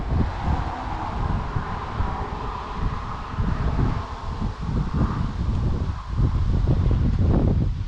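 Wind gusting hard across the microphone outdoors, loud, rumbling buffets that swell and ease in waves, with some leaf rustle and no speech.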